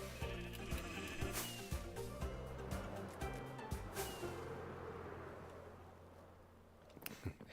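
Sheep bleating in a Minecraft world, a few short bleats amid game music and ambient sounds, with a husk mob nearby.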